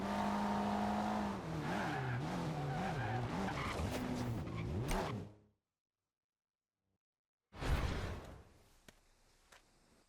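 A Ferrari F40 in Forza Horizon 2 revs hard with warbling engine pitch and squealing tires as it spins out, then cuts to silence before a brief loud whoosh and fading rumble.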